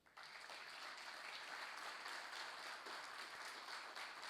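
A graduating cohort receives applause at a seminar closing, a continuous wash of many hands clapping at low level, evenly sustained after a sudden start, with no voices on top.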